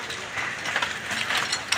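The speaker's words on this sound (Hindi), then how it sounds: "अभी बारिश फिर से स्टार्ट हो चुकी है।" Steady rain falling and pattering on a surface, a soft continuous hiss with faint irregular ticks, fairly quiet and close.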